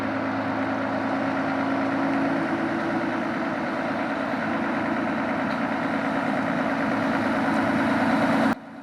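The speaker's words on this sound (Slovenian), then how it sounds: "Dokler se motor ni ogrel, je Peter plinski pedal zmerno pritiskal." A first-generation Mercedes Actros truck engine warms up at a steady, low, rumbling idle close by, continuous for most of the stretch before cutting off abruptly near the end.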